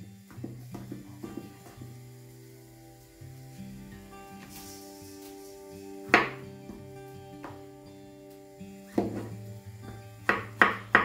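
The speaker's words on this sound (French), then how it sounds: "Je viens ensuite couper les champignons. Je vais les couper en lamelles assez fines." A knife cuts mushrooms into thin slices, giving scattered soft taps and a few sharper knocks on a board against a background of steady tonal music.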